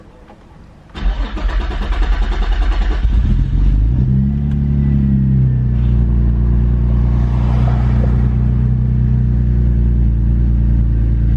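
A Nissan G35 with a six-speed cranks and starts up loudly, flares briefly, then drops into a steady, close, rumbling idle.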